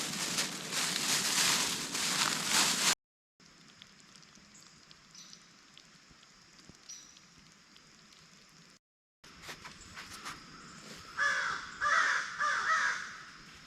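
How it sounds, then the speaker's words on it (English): Crows roosting in a tree at a truck campsite caw repeatedly, loud and close, in bursts separated by pauses, with a pattering like rain in the background. "Got some crows that took roost in this tree right behind me."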